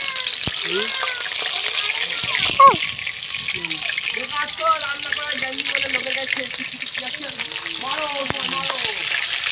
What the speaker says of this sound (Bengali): এবার মাছ ভাজা হয়ে গেছে আমি এই মাছগুলো তুলে নিচ্ছি